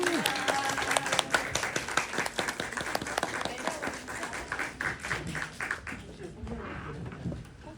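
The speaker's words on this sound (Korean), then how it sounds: "여러분들께 큰 박수 부탁드리면서" Audience at a Korean independent film screening Q&A, marking ten thousand viewers, claps in a moderate, fairly distant round that gradually thins out and fades toward the end.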